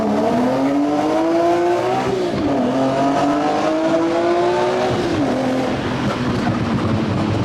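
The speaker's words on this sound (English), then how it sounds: "Oh, it makes pop noises? On sport mode." BMW E46 M3 in sport mode with traction control off, engine revving hard and loud as the pitch climbs, dips and climbs again, with crackling exhaust pops over the roar.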